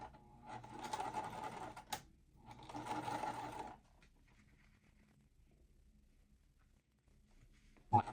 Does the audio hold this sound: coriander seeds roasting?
no